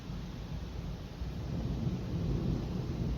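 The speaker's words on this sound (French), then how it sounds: "qui aurait cru qu'il y aurait un orage aussi puissant que celui-là là aujourd'hui?" Deep thunder rumbles steadily and loudly through a powerful thunderstorm in Gironde, with wind gusts reaching 135 km/h. A broad, continuous roar swells slightly toward the end, with no voices.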